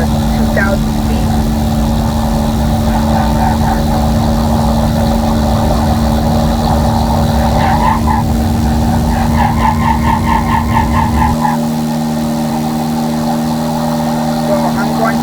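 A simulated light aircraft's engine drones steadily and throttles up for takeoff, a continuous buzzing hum with a shift in pitch partway through, under someone talking.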